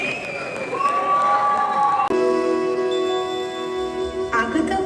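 A crowd at a Diwali celebration fashion show in America claps and cheers in a loud, sustained burst, with steady tonal music playing through it.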